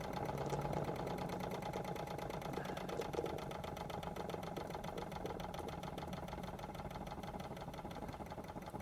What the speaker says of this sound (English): don't even have to touch it to start it again. Just starts